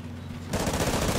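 Bison submachine gun in Call of Duty Ghosts: after a quiet moment, a sudden loud burst of rapid automatic fire that continues to the end.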